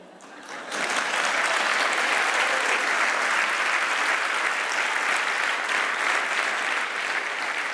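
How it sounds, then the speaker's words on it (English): A TEDx audience in Verona breaks into applause after a brief quiet moment, a dense, sustained wash of clapping from a large crowd that stays loud and steady to the end. "thank you for the applause"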